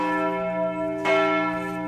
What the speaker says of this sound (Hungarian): És akkor ahogy vége itt a harangozásnak, rátérünk a beltérre is.